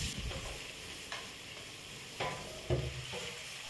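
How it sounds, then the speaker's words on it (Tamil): Marinated Kerala-style poricha chicken frying in hot oil, a continuous soft sizzle with a few sharper stirring scrapes spaced across the few seconds, with no voices. "இப்போ இதை பொரிச்சு எடுத்துக்கலாம்."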